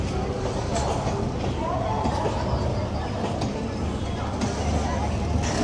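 Local train running from Sealdah towards Jaynagar, heard from inside as a constant heavy rumble and rattle, with passengers chattering in the background.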